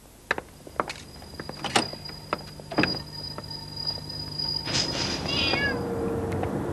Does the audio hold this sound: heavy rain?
no